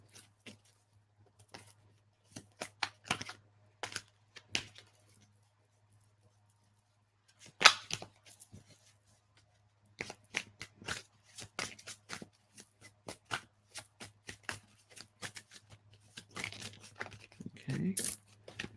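Tarot cards handled and shuffled from a deck at close range, with irregular bursts of riffling, slapping and sliding separated by quiet pauses, over a low steady hum.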